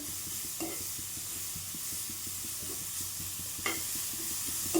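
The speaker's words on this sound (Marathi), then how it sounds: "तेलामध्ये थोडं कमी गॅसवरच परतून घ्यायचं." Beetroot sautés gently in oil over low heat in a pan, a soft steady sizzle with faint rhythmic stirring scrapes and a few small clinks, heard close with no talking.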